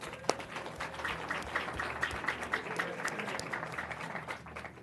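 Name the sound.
applause for schools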